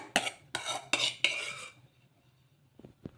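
A spoon stirs chopped cabbage and onions into an egg batter in a bowl. Four distinct clinking, scraping strokes come at a steady pace, then a pause and a few light taps, all close and clear with no talking.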